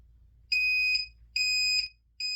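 An electronic alarm on a comic book press goes off in three loud, piercing beeps, each about half a second long with short gaps between them. No one talks.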